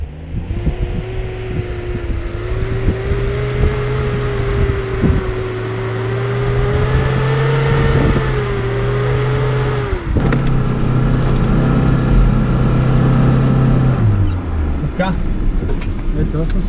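A Lada Niva engine revs hard during an off-road traction test, droning and rising in pitch while the car strains. The engine drops away near the end, with people talking over it.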